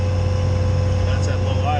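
A Bobcat engine idles low and steady, a continuous droning hum with a strong low-pitched tone that holds even throughout.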